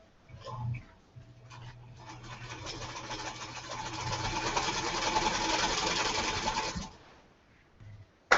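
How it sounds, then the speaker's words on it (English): A sewing machine stitches two quilt triangles together, a fast steady whirring hum that builds and runs for about six seconds before stopping, close and clear, with brief quiet moments before and after. "And I'm going to sew 2 together."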